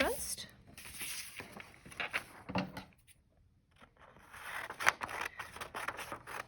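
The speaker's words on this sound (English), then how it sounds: "And let's cut that out first." Scissors snipping through paper to cut out a handmade Christmas tree card with a snowman, close-up crisp cuts and rustling paper in uneven bursts with short pauses between them, no talking.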